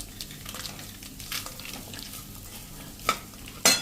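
Peanuts tipped into a pan of frying vagharelo rotlo, a Kathiawadi spiced millet flatbread dish, with soft stirring scrapes and a quiet sizzle, then two sharper clatters near the end.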